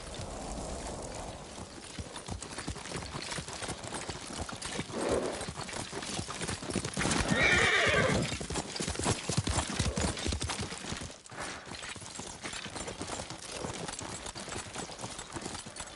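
Horse hooves clip-clop inside a Ghost of Tsushima game scene, blended into a dense, steady wash of ambient sound and music at moderate level, with no clear neigh standing out.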